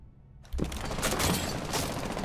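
Gunfire in a competitive shooter video game match bursts in abruptly after half a second of near quiet, a dense rapid volley of close shots that carries on to the end.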